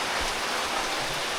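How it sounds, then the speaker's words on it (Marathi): Heavy monsoon rain pours steadily in rural Konkan near a village stream, a dense broadband hiss that stays loud and even, with no voices. "पाऊस तर भरपूर पडतो आहे"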